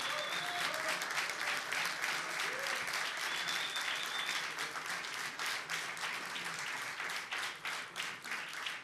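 Warm audience applause in a small jazz quintet concert, greeting the band's drummer; a dense wash of clapping holds steady, then thins into scattered claps near the end, fairly soft overall.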